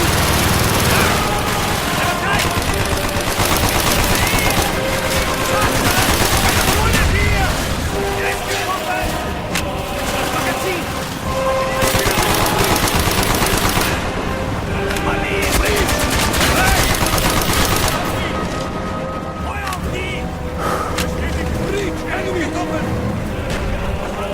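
Sustained rapid gunfire in Call of Duty: Black Ops, Project Nova mission, with dense bursts of automatic weapons running almost continuously at high loudness while soldiers shout over the battle.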